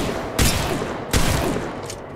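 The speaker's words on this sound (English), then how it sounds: "Shooting!" Gunfire in the battle royale game Apex Legends comes as two heavy bursts of shots about a second apart over a constant, dense game soundscape, loud and with no talk.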